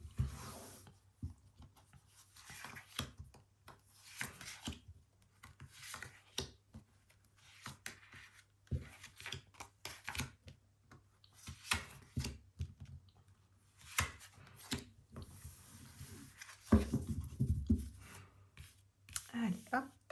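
Tarot cards being placed on a table, a series of soft, close slides, taps and rustles spread unevenly over the stretch, fairly faint, with a brief handling burst near the end.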